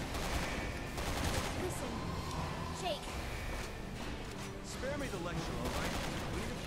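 Gunfire in Resident Evil 6 with sniper rifle shots among a continuous busy mix of game combat noise, with a player talking over it throughout.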